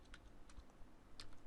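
Quiet, scattered clicks of keys being typed on a computer keyboard, a few soft taps close by at an uneven pace.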